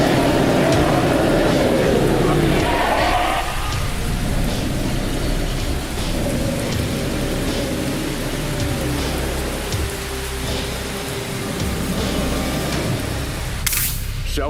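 Heavy rain pours down steadily in a loud, continuous hiss, with rumbling thunder mixed in and a sharp crack or burst near the end.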